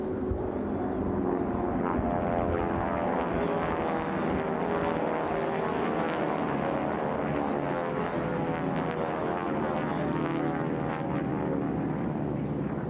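A racing propeller aircraft at the National Championship Air Races in Roswell, New Mexico, roars past with a steady, loud, buzzing engine drone that holds throughout.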